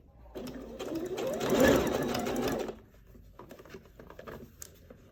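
Sewing machine stitching a seam on a kaftan toward the point of the V neckline, running in a loud, close whirring burst for about two seconds and then giving way to quieter handling sounds.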